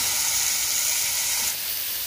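Potatoes and onions frying in a pan over a village cooking fire, producing a constant close hiss of sizzling oil with no voices, easing slightly in the final half second.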